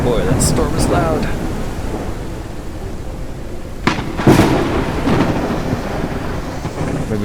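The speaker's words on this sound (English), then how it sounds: "Boy, that storm is loud." A storm in the Forever Skies video game brings steady rain and loud, close cracks and rumbles of thunder rolling over a constant wash of rain and wind.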